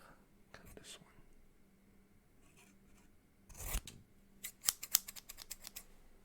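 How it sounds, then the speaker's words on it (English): Scissors snip through a stuck chunk in a close, quiet ASMR setting, a few soft rustles giving way to a burst of sharp, rapid cuts near the end. "I'm actually going to cut off this piece real quick."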